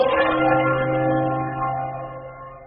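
A large church bell rings out once with a rich, humming tone that slowly fades away, clear and alone with no voices.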